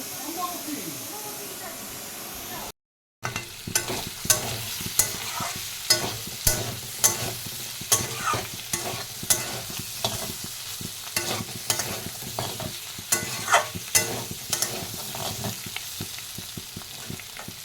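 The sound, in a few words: cooking food in a pan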